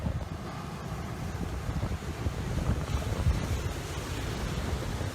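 Ocean waves surge at a beach in Valencia on a warm day, a broad rumbling wash mixed with heavy wind buffeting the microphone.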